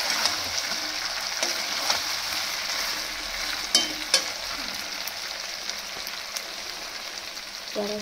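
Chili soybean chunks stir-fried dry in a pan, a steady crackling sizzle with occasional sharp scrapes and taps of a spatula, close and continuous with no talking.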